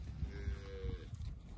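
A Brahman cow in a pasture gives one long, low moo lasting about a second, fairly distant over steady outdoor rumble.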